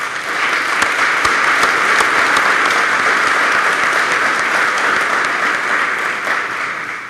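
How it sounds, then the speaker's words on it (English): A crowd at a community welcome-home gathering for Vietnam veterans breaks into sustained, dense applause that holds steady for several seconds and fades slightly at the end, loud and close. "he deserves a big round of applause"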